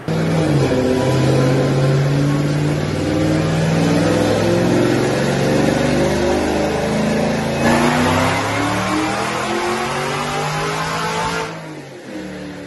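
2013 Camaro ZL1 with automatic A6 transmission screaming through a full dyno pull, loud continuous revving that climbs through several gear changes, then drops off sharply at the end.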